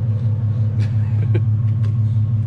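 A low, grumbling exhaust on an Infiniti Q50 3.7 with the muffler deleted idles steadily at close range, a deep continuous rumble with a few faint clicks on top.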